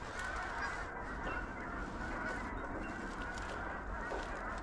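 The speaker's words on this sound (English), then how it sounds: "Lots of geese around now." Geese honk repeatedly during a windy late-season goose hunt, a dense overlapping chorus of calls from a sizeable flock heard over gusting wind noise.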